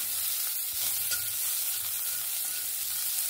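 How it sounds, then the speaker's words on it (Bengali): Whole spices and onion frying in hot oil in a home kitchen, a steady bright sizzle with faint stirring scrapes, close and continuous without speech. "প্রথমে আমি সব মশলাগুলো ভেজে নিয়ে তারপরে বেটে নেব।"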